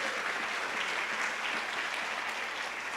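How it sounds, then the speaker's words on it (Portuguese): Church congregation applauding during a sermon, a dense, loud, sustained roar of many people clapping together, steady throughout with no speech rising above it. "Pode aplaudir, felicidade."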